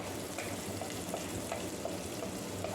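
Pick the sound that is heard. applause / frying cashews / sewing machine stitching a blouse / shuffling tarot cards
frying cashews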